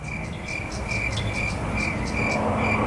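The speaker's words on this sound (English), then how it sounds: "crickets." Crickets chirp in a steady run of high, pulsing trills over a constant outdoor hiss, used as a sound effect for awkward silence.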